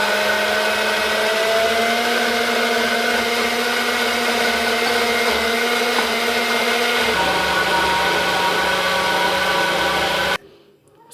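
An electric mixer whirs steadily, loud and close, beating chocolate cake batter with a cup of oil for about ten seconds, its pitch dropping partway through, then cutting off abruptly near the end.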